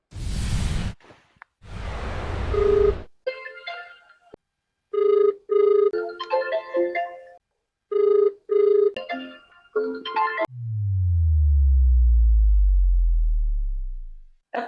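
A phone rings with a melodic electronic ringtone chiming in short repeated phrases, then a deep descending swoosh follows.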